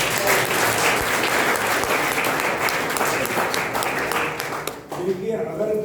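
An audience in a college lecture hall applauds, with steady, dense clapping that carries on loud for nearly five seconds and then fades, with a voice coming in at the end.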